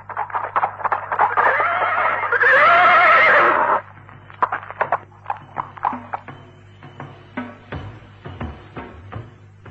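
A horse whinnies loudly and close by as riders get down from their mounts, with a long bright neigh in the middle and snorts, hoof clops and scuffs around it.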